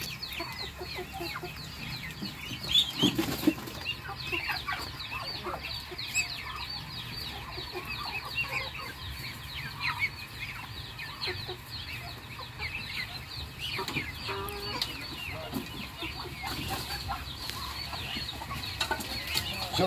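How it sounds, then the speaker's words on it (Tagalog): Muscovy ducks and chickens on a small backyard farm cluck and scratch about, with bursts of wing flapping and scattered rustling at moderate distance throughout. "Kunin ko lang yung manok mga idol."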